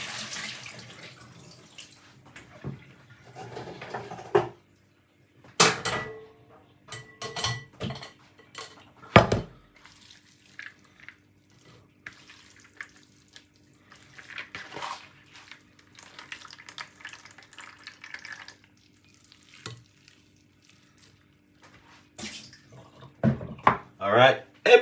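Soaked sea moss is tipped into a strainer in a kitchen sink, with scattered clatters of dishes and utensils, splashes and drips around quieter stretches, and a person talking at times.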